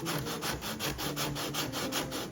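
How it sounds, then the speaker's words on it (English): 80 grit sandpaper rubs back and forth on the heel of a wooden jazz kit guitar neck, a steady rhythmic rasping stroke repeated close to the microphone. "So I'm starting off with here is 80 grit sandpaper."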